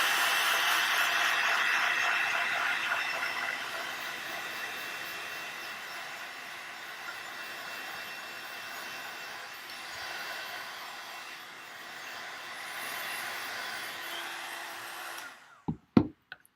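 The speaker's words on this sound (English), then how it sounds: "So I'm just going to run my heat tool over that." A heat embossing tool blows hot air over stamped embossing powder on a card, giving a steady, loud whooshing hiss for about fifteen seconds before it is switched off with a few clicks and knocks.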